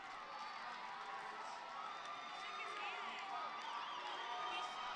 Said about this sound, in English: You hear the crowd. 305 is what they're chanting.